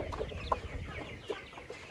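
Farm chickens cluck in a few short, scattered calls close by, with no voices over them.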